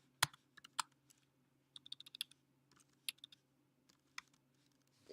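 Someone types code on a computer keyboard, with sparse, irregular key clicks and short bursts of tapping heard close in an otherwise quiet room.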